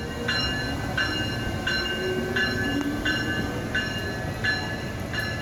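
Train rolling along rails near Kingston, a steady rumble with a rhythmic clicking of wheels over joints repeating roughly every second, heard from close by with no talk.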